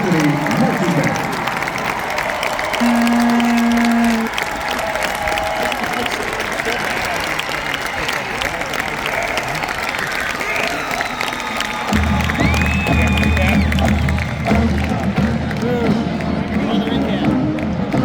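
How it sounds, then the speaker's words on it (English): Stadium crowd cheers and applauds for the Ohio State University marching band at a band invitational, a broad roaring wash of clapping and shouts, with a low rumble entering partway through and an announcer's voice over it. "Another round of applause for the pride of the Buckeyes, the Ohio State University marching band"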